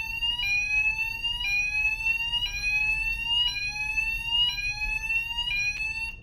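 A ship's inert gas system alarm sounds from its control panel, a loud, repeating electronic tone that steps in pitch about once a second and continues steadily throughout, with no voices.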